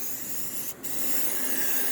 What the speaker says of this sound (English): you kind of want to apply your primer evenly if you're using a spray can